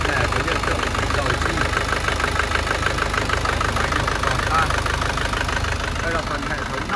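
A 2008 Isuzu 2.5-litre diesel engine idling, a steady close knocking rumble with even rhythm that runs unbroken and fairly loud throughout.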